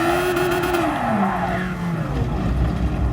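A race car at full throttle on the Fuji circuit in a racing game, its engine roaring loud and close with pitch sweeping through the gears while the tyres squeal and hiss through the corner.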